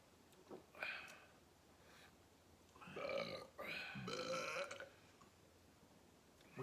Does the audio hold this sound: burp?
yes